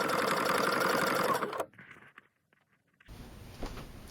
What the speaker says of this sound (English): So I'm going to stitch around here, stitch around, stitch around